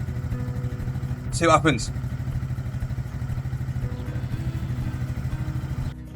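A Honda C90 motorcycle engine idles steadily with a fast, even putter throughout, near and fairly loud, with a brief clatter early on and someone speaking over it.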